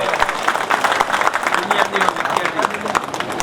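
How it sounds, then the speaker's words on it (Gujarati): An audience at an alumni meeting claps loudly and steadily throughout, a dense wash of applause with voices talking over it. "આના માટે જોરદાર તાળી પાડો"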